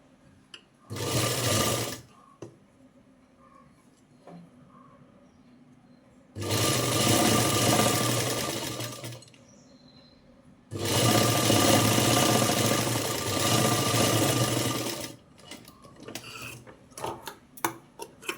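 A sewing machine stitches a puff sleeve in three loud, steady bursts of rapid mechanical whirring and ticking, each several seconds long, separated by quiet pauses with faint handling noises.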